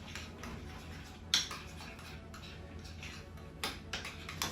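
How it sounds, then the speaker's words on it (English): A utensil stirs lemon juice and mayonnaise sauce in a bowl, making quiet, sparse clinks and ticks against a faint background hiss. "And we'll just stir that right up right there."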